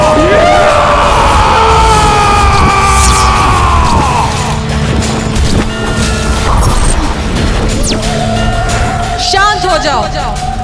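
A furious, drawn-out scream from a mythological devotional drama, loud and sustained over rumbling dramatic music and effects, with a shrill rising cry near the end.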